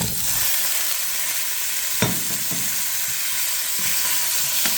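Beef and beef tripe fry in a pan of peanut sauce, giving a loud, dense, continuous sizzle close by, with a few stirring knocks from a utensil and no voices.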